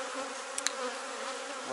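Honey bees at the hive entrance give off a steady, close buzzing drone, with a couple of brief louder passes as single bees fly near.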